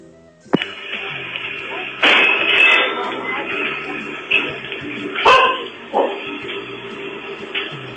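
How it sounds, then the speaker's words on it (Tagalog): A dog barks several times, in sharp separate bursts with gaps between them. It sounds thin and compressed, like it is heard over a phone or radio line. "Galit yung aso niyo."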